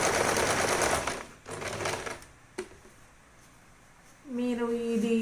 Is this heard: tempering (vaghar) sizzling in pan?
no